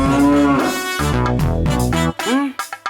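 A cartoon buffalo lets out a long, loud, drawn-out moo, followed by a few short grunting calls that trail off near the end.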